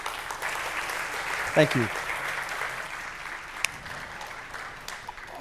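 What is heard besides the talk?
conference audience applause for a speaker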